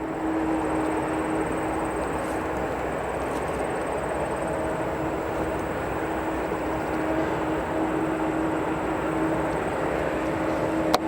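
A Boeing 737 rolling out after landing at O'Hare airport, a steady loud jet engine roar with a constant whine on top, continuous and even throughout.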